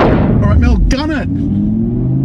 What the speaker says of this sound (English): Alright, Mel, gun it!